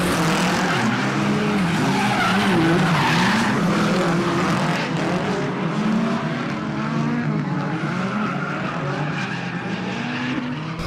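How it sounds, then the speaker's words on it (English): Cars drifting through a tight section at Meihan circuit, engines roaring steadily with long, sustained tire skids and squeals that continue without pause, loud and fairly close. "the little tight section where they sort of like grip up drift and the guy behind sort of awkwardly chases through"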